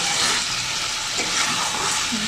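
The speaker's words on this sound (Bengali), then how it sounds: "এইভাবে কিছুক্ষণ ভেজে নেব মাংসগুলো" Chicken pieces fry in a pan with onion and spices, a loud, constant sizzle and crackle of hot oil that stays close and unbroken for a couple of seconds.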